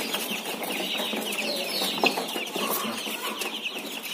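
Broiler chickens cluck continuously in a busy, chattering flock nearby, with overlapping calls and no other prominent sounds.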